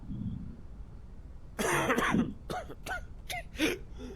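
A run of raspy coughs and throat clearing from an infected character in Quarantine Zone, starting with a longer rough burst and then several short hacks in quick succession, moderately near.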